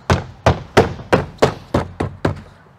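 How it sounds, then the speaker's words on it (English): A 2013-2015 Acura ILX door panel is struck back into place with eight loud, close thumps in a steady rhythm, each a short dull knock. "now you can actually hit the door panel back into place."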